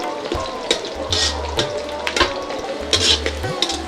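Onions and garlic frying with beef in oil for a Bengali beef bhuna, giving a close, busy sizzle and bubbling, with rhythmic stirring scrapes and clatter and a few low thuds from the pan.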